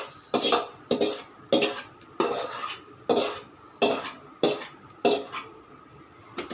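Sautéed Madurai chutney ingredients are scraped from a pan onto another plate with a metal spoon, making about nine regular, close scraping strokes with clinks against the cookware, and no talking.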